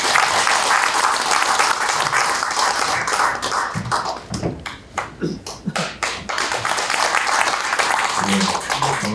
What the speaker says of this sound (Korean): 큰 박수를 한 주십시오.